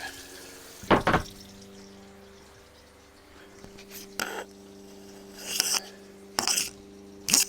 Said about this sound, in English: So now we can turn the water off and in all the spigots.